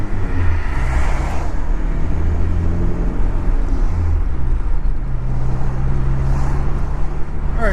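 A Toyota pickup with a 22RE engine drives along toward the highway, a steady loud engine drone and road rumble from inside the cab with a few faint shifts in tone.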